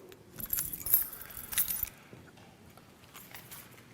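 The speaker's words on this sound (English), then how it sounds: "So we've got the keys, apparently." Metal keys jangle in a few bright, shaking bursts over the first two seconds, then fade to faint rustling, close by and with no talking.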